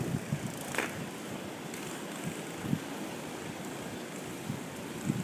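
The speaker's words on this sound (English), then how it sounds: "You can hear that wind." Strong wind blows through a January snowstorm in Sylvania, Ohio, a steady rushing gust noise buffeting the microphone with occasional thumps.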